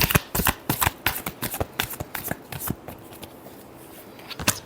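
Tarot cards are shuffled up close as a quick run of crisp riffling flutters and slaps, which thins to quieter shuffling near the end, with no talking.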